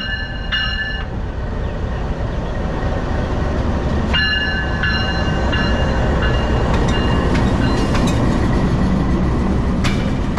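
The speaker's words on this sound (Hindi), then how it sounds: "लोकोमोटिव जो है सामने से लाइन चेंज करके ओके अपनी ट्रेन के ऊपर प्रॉपर आ जाएगा सही।" A railway locomotive shunts across to an adjacent line to couple onto its train, giving a steady loud rumble of rail traffic with repeated sharp metallic squeals and clanks throughout, and no talking.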